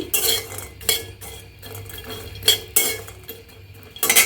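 Dried loitta fish is dry-fried in a pot, with a metal spoon or spatula scraping and clinking against the pot in irregular bursts, close by and fairly loud, and only a faint hiss beneath.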